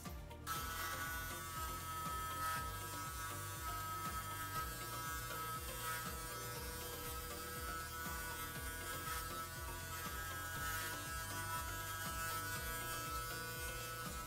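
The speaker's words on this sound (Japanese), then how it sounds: "バリカンを入れてあげると 髪の毛が逃げずにきれいに刈り上げることができます" Electric hair clippers run close by with a steady buzzing hum while cutting a long undercut on a men's spiky short haircut at a salon, the motor drone continuous and even with faint rhythmic cutting texture and no talking.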